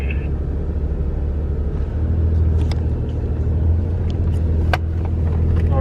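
A Ford Raptor truck grinds up an off-road hill, its engine a loud, steady low rumble under load, with small clicks and rattles over the top and no voices.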